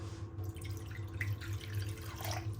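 Warm tap water runs steadily into a cup for a yeast bread dough, a faint, continuous stream with light splashing and no talking.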